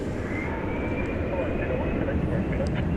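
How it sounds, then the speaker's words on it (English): A Delta Airbus A220 arriving from Salt Lake City rumbles steadily at an airport at night, a loud continuous engine roar throughout. "Incoming now, Delta Flight 2796 from Salt Lake City"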